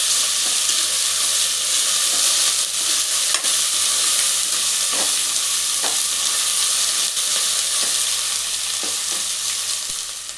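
Ginger garlic paste and turmeric fry in hot oil, producing a loud, continuous sizzle with occasional scraping stirs, close and unbroken throughout.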